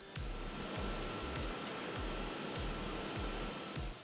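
A small cooling fan on an Orange Pi 6 Plus single-board computer, with no case around it, gives a steady close whooshing hiss at a constant level, with a faint repeating low pulse underneath.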